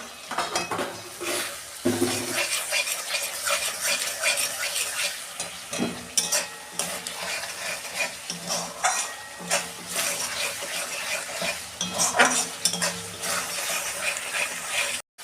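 Spice masala sizzling and frying in a pan for a spicy jackfruit and prawn curry, with steady sizzle under repeated scraping stirs and clinks of a spoon against the pan throughout, close and fairly loud.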